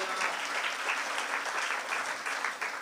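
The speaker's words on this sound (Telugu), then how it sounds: "చప్పట్లు కొట్టి దేవుని స్తుతించండి." A church congregation claps steadily in praise of God, a thick, even patter of many hands sustained throughout at moderate volume.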